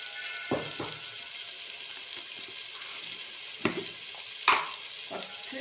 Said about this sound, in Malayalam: കുറച്ച് ഗരം മസാലപ്പൊടി ഇട്ടിട്ട് ഇങ്ങനെ വഴറ്റുക.